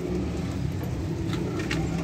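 Teddy pigeons on a rooftop in Jhelum give soft cooing calls over a steady background hum, with faint road traffic in the distance.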